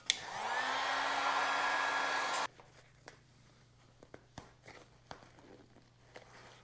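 A heat gun blows hard and steady for about two seconds, warming a vinyl seat cover on a Honda CL175 motorcycle, then cuts off, leaving quiet handling noises, light taps and rustles up close.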